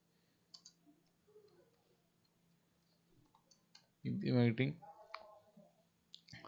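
Faint, sparse mouse clicks from a computer scattered through the stretch, soft and close, with a voice speaking briefly in the middle.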